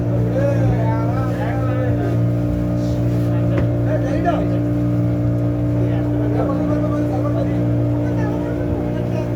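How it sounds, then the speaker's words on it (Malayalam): Motorboat on the Godavari River at Yanam gives a steady droning engine hum with constant tonal whine throughout, close and loud, while people talk over it. "ഗോദാവരി നദിയിലൂടെ ഉള്ള ബോട്ട് യാത്രയാണ്"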